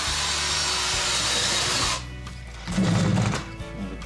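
A power drill bores holes in the bottom of a plastic container for a homemade worm farm, with a sustained whirring bite for about two seconds, then a brief pause and a shorter second burst.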